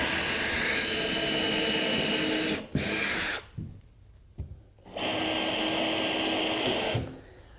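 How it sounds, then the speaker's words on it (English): A power drill whines loudly in two long bursts with a short pause between while drilling countersink holes, then spins down near the end. "start drilling the holes for the countersink"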